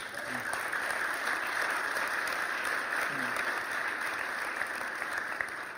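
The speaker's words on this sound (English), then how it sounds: "Can you give us a round of applause?" A crowd at a Berlin social entrepreneurship event applauds steadily, a dense wash of many hands clapping at an even level throughout, somewhat distant, with no voices on top.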